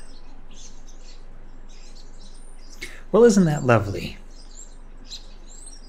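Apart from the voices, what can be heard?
ambient chirping bird sound effect in Unreal Engine scene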